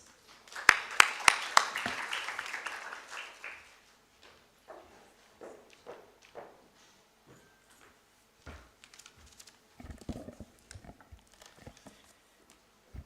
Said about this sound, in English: Let's welcome Mr. Bhatta with a round of applause.